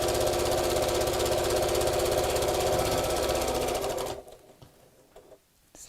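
A sewing machine runs steadily and loudly while stitching all the way around a fabric bag, its rapid mechanical whir continuous for about four seconds before stopping abruptly, followed by faint handling noises.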